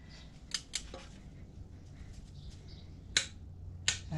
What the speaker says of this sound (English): And then we go to the torque wrench.